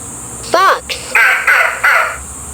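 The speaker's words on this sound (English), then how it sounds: "Fox." A fox calls with a rising, whiny yelp, followed by four hoarse, rasping barks spaced evenly and heard up close, alone.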